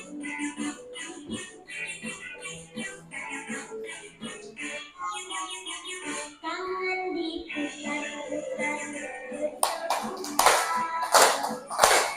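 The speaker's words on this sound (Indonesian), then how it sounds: "Oke, tepuk tangan dulu." A classroom of students claps their hands together in a loud, brisk burst near the end, following a stretch of a teacher's voice and light tapping.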